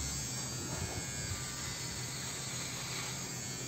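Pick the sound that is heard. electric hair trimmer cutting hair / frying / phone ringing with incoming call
electric hair trimmer cutting hair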